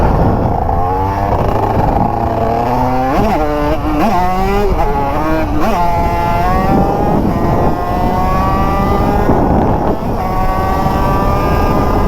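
A 50cc motorcycle engine screams at full throttle, its pitch sweeping up and down as the rider shifts, sustained and loud throughout with other engine noise underneath.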